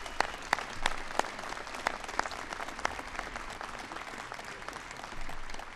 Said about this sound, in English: So another applause, if you would, for them.